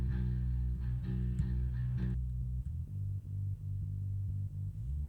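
Compressed low-frequency parallel sub signal split from a bass guitar amp, a dense, sustained deep rumble of bass notes with steady, even level and a few quick note changes, heard alone.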